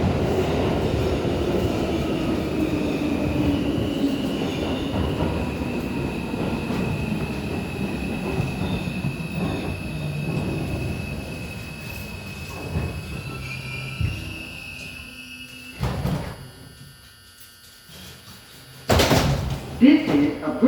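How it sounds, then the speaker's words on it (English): A New York City 2 train R142 subway car bound for Flatbush Avenue, running without HVAC, rumbles and squeals along the rails while an automated announcement plays. The car then quiets near a stop before door chimes and louder clatter return. "This is a Brooklyn College Flatbush Avenue bound 2 train."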